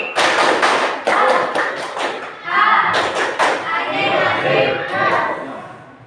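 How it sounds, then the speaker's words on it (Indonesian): A group claps in quick rhythmic bursts, many hands striking together in a patterned beat, with voices chanting the Indonesian 'tepuk pagi' morning clap chant over the claps. "Sekali lagi, tepuk pagi."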